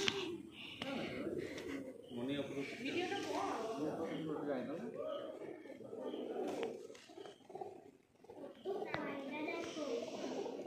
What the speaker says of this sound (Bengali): প্রচুর পায়রা এখানে।